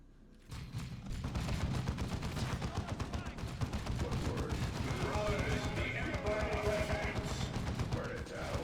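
A space marine weapon in Warhammer 40k: Dawn of War II opens up after a brief quiet moment, then keeps up a rapid, sustained barrage of loud gunfire while voices talk over the battle.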